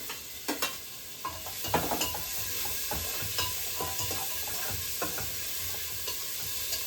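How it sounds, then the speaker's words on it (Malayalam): Sliced onion and green chillies frying in a hot pan while being stirred, a steady close sizzle with scattered scraping taps from the spoon, no talking. "ഇനി നമുക്ക് എടുത്തു വെച്ചിരിക്കുന്ന ഉള്ളിയും പച്ചമുളകും ഇടാം"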